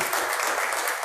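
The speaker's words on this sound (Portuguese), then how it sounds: "Uma salva de palmas para Jesus, irmão." A church congregation claps in a dense, steady burst, many hands close by, brief and without speech.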